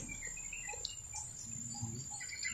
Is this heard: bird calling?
yes